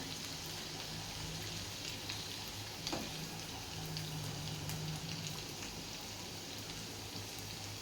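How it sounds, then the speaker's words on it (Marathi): Sabudana (sago pearls) fry in hot oil over a full gas flame, giving a steady, even sizzle with fine crackling that stays quiet and unbroken with no other sound. "तर हे आपल्याला फुल गॅसवर तळून घ्यायचे"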